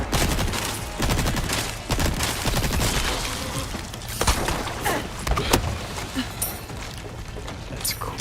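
Repeated gunfire aimed at an enemy in Resident Evil 4 Remake, a run of sharp, loud shots at uneven intervals mixed with mechanical clatter and game effects, with some talk faintly underneath.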